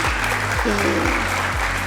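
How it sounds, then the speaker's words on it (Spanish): An audience at an international medical and scientific congress applauds a doctor, clapping steadily all the way through while deep, repeated low tones from music or a sound system play underneath. "Un aplauso, por favor"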